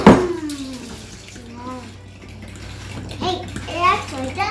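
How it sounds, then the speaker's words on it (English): A tap runs steadily as a child washes his hands at a sink, the water a constant low rush beneath children's voices chattering over it. "Isaac, let Charlie wash his hands again."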